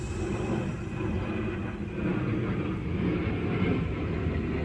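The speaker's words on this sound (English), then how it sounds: "the shadow of the plane went directly over me" A fixed-wing airplane passes overhead as a steady, broad rumbling roar, moderately loud and continuous with no voices.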